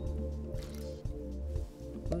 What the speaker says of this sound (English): Now you're gonna want to discard the water in the cup.